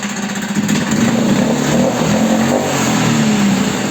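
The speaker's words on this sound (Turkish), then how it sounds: "Motorumuzu bir çalıştıralım diyoruz arkadaşlar" A Mercury 6 hp outboard boat motor runs steadily, loud and close, as a continuous droning hum whose pitch wavers slightly throughout, with no talk over it.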